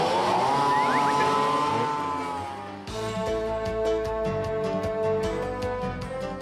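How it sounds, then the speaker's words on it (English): A snowmobile engine revs with a rising, whining pitch, eases off, then runs on with a rapid, choppy pulsing note at close range. "Snowmobiles are great machines, but it's important to remember they are motor vehicles."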